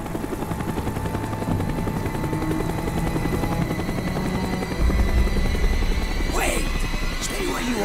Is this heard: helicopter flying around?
yes